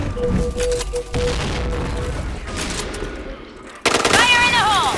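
Rapid gunfire bursts from the online shooter Point Blank, dense and continuous, with a sharp louder burst near the end over game effects and a faint voice.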